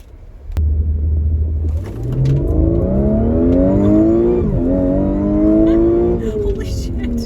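Audi in sport mode revving hard with a loud intake note, a low idle rumble giving way to rising, sustained engine pitch that sweeps up and down, held high and close throughout.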